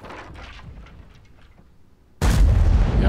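World of Tanks tank gun firing, a sudden loud blast that cuts in after a quieter stretch of distant battle rumble and holds as a heavy, roaring boom to the end.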